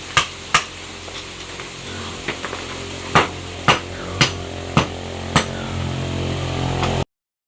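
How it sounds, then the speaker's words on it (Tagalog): Hammer blows strike and break cement while digging a hole for a piglet feeding trough, about eight sharp, separate knocks at an uneven pace, close and loud over a quiet background, with no speech. "Kailangan lang po talaga po ay kuhanin po ng martilyo para po mabaak"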